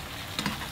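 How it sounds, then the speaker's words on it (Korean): Eggplant stir-frying in a pan over medium heat, a steady soft sizzle with a couple of faint stirring taps, brief and fairly quiet with no talk. "계속 처음부터 중불에다 놓고 볶는 겁니다."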